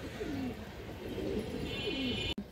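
A female Maxi Gorra pigeon coos in a few soft, rolling calls, close by against a low background hum, with a brief sharp click near the end.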